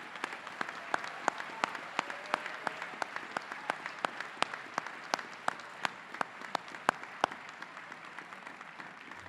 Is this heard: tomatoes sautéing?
no